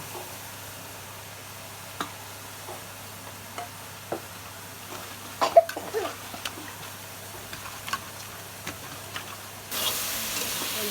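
Kabil taro (kochu) stalks fry in a pan with a faint, steady crackle and scattered soft pops, the hiss swelling slightly near the end.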